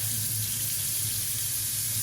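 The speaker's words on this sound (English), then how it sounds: "So run some warm water and just start" Warm water runs steadily from a tap over a paintbrush being rinsed in a sink, a constant close hiss and splash with no pauses.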